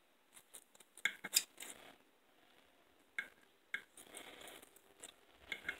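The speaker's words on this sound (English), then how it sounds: "it's easy to cut with a pair of scissors and with a knife" Sharp snipping clicks of scissors cutting fresh lean venison, coming in irregular bursts of several quick cuts separated by short pauses, close and fairly quiet.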